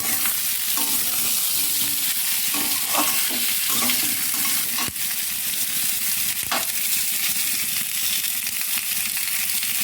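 Taro and meat stir-fried in a pan, a loud steady sizzle with scraping stirs running throughout, close and without talk.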